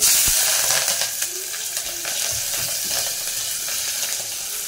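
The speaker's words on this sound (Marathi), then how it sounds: "आपल्या डाळीला फोडणी चालू आहे बघा. तेल आहे, मस्त पैकी जिरं टाकलेलं राई आहे" Dal tempering in hot oil with mustard seeds, cumin and chilli sizzles up close, a steady bright frying hiss with small crackles and pops that starts loud and settles slightly.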